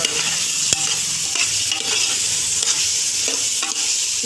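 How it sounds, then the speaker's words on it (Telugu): Prawn biryani mixture with biryani masala stirred in a pan, a steady close sizzle with scraping spoon strokes recurring throughout, loud and continuous with no voices. "బాగా కలుపుకొని బిర్యానీ మసాలా వేసుకున్న తర్వాత బాగా కలుపుకోవాలి."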